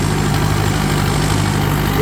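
A Mahindra 585 XP Plus turbo tractor engine runs at normal speed, a steady loud low rumble and drone that holds even throughout with no change in pitch and no voices.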